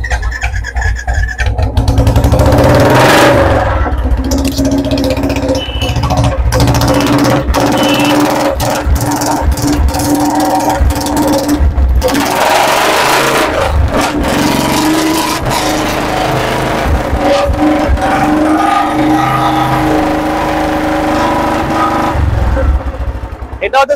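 A modified motorcycle, a used bike at a discount dealer, starts up and revs loudly and close, the engine surging and dropping repeatedly over a steady idle, with people talking nearby and a brief beep.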